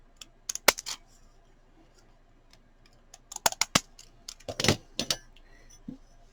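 Scissors cut paper postage-type stamps in short, sharp snips, a few isolated cuts at first and then a quicker cluster, close and crisp against a quiet room.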